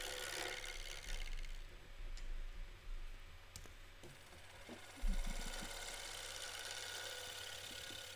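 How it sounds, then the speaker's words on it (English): A gouge cuts a spinning piece of wood on a lathe, producing a steady close scraping rasp with occasional ticks and knocks. "the gouge needs to be pointing in the direction that you're cutting"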